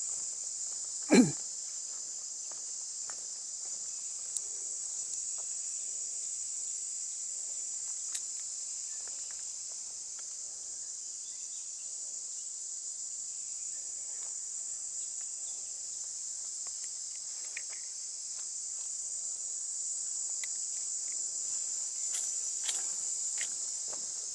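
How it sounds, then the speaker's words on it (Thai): Cicadas drone in a steady, high-pitched buzz in natural surroundings near a cave, holding evenly throughout with a single brief knock near the start and faint scattered ticks. "เสียงจักจัน"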